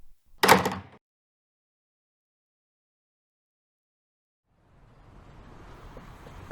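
A single door sound effect in a gritty British crime drama, a short loud thud or slam near the start, followed by long silence and then a faint rising outdoor ambience.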